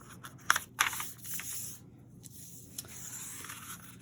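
Paper folded in half during a classroom drawing lesson: two crisp crackles of creasing near the start, then a soft, continuing rustle of the sheet at close range.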